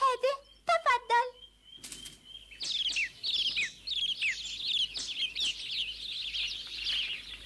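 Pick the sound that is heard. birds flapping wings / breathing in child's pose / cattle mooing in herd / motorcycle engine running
birds flapping wings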